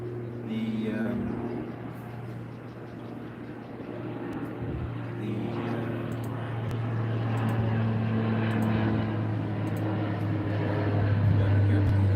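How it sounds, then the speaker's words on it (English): An airplane descends toward an airport near a moored sailboat, a steady low engine drone that builds slightly over a continuous background hum, with no other distinct sounds over it. "got an airplane coming into the airport."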